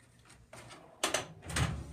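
A crash cart drawer at a hospital simulation center is pulled open, giving a few short sliding clunks and knocks close by, with no voices.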